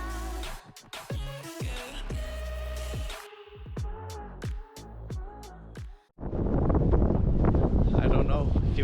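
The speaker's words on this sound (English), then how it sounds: "sometimes it's a little bit windy out here." Gusty wind roars against the microphone for the last few seconds, loud and steady, after a stretch of clattering activity and voices.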